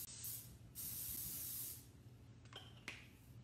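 Cooking spray is sprayed into a chaffle maker in two quiet bursts of hiss, each about a second long, followed by a couple of soft clicks and a faint background hum.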